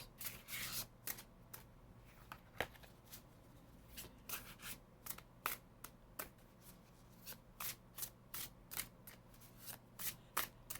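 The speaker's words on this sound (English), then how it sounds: "They seem to be shuffling quite nicely." Rapid papery riffles of a thick tarot deck of heavy cardstock being shuffled, short bursts repeating at a steady pace, close and fairly quiet.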